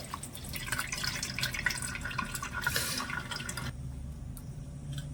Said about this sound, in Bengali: এবারে উপর দিয়ে একটু আমি ঠান্ডা জল দিয়ে দিচ্ছি।